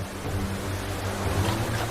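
A gushing river waterfall in the wild, where salmon try to leap upstream, gives a constant close roar of churning water with deep low rumble, steady and unbroken with no talk.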